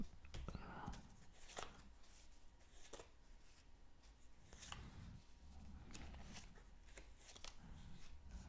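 A Marseille tarot deck is cut and shuffled by hand, with soft, close, faint papery riffles and taps of cards recurring in an irregular rhythm throughout, with no voice over them.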